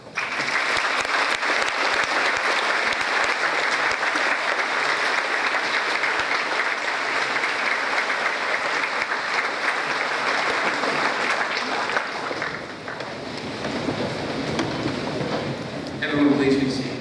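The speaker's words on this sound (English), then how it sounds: "May we please have a round of applause and gratitude for the sacrifices made by these service members" Sustained applause fills a high school auditorium as a Veterans Day assembly audience honors service members, steady and loud for about twelve seconds before thinning into scattered claps and crowd murmur.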